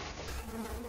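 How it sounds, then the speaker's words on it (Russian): Mosquitoes buzz close by outdoors during a home beer-brewing session, a thin, steady insect whine with no speech over it. "комары, что ж такое?"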